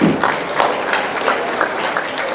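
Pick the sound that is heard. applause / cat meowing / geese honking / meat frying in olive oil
applause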